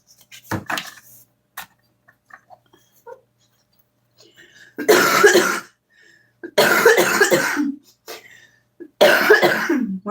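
Several loud, close coughing fits from someone recovering from illness, three broad harsh bursts each lasting over a second, with lighter scattered throat sounds and small clinks earlier.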